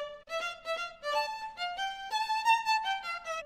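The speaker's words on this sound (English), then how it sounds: "Violins sound like this." Violins playing a bright, bowed melody of sustained and shifting notes, steady and close, with no voices.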